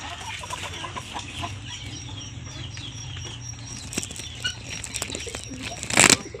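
Roosters and hens clucking and fluttering at a feeding spot as grain is poured for them, a steady low murmur of birds with scattered pecks and a short loud burst of wing flapping near the end.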